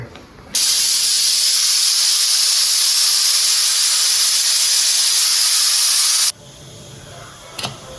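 A pressure cooker of mutton paya vents steam in one loud, steady hiss lasting about six seconds, then stops abruptly, leaving a quiet kitchen background.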